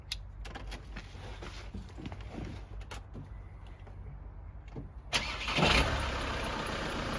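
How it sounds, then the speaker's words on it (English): A Volkswagen Transporter T6 van, freshly refilled with oil, sits quietly with faint clicks before the engine cranks briefly and catches around five seconds in, then settles into a steady, close idle. "we can lose this sign and start the engine"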